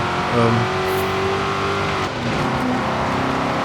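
A 2005 MG XPower SV-R's engine in Forza Horizon 5, droning steadily at high revs with a loud, constant tone and a brief dip in power partway through.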